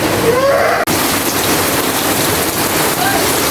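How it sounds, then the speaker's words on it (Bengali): Heavy rain pours down in a dense, continuous hiss close by, loud and unbroken for the whole stretch. "খুব বৃষ্টি শুরু হয়েছে"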